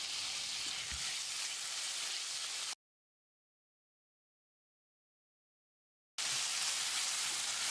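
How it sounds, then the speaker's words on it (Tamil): Tomatoes sauté with turmeric and salt in a frying pan, giving a steady close sizzle that cuts out in the middle and then resumes. "1/4 டீஸ்பூன் மஞ்சள் தூள் சேர்த்து தக்காளியை நல்லா வதக்கிடலாம்."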